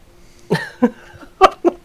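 Four short coughs in two quick pairs, close and fairly loud, with no talking.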